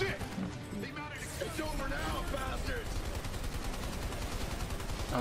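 Rapid automatic fire from a medium machine gun turret in Army of Two: The Devil's Cartel, a dense continuous rattle of shots with other gunfire and speech mixed in throughout.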